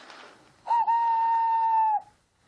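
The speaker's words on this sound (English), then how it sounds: "and Thomas in return always whistles" A small steam engine's whistle gives one clear, steady tone lasting over a second, loud and close after a faint murmur.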